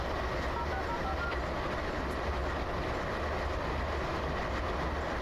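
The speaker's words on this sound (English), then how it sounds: "I see that train turning into the curve." In the Train Simulator Classic game, a train rolls into a curve during a blizzard. A steady, dense rumble of wheels and rail noise holds at a constant level the whole time, with no voices.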